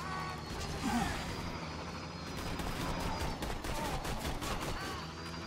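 Assault rifle fire in the shooter game Borderlands 2 rattles in sustained, dense bursts against constant game noise and effects, loud and continuous across the whole stretch.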